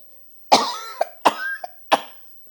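Three sharp coughs in close succession, loud and near, each a harsh burst with a short throaty tail, separated by brief pauses.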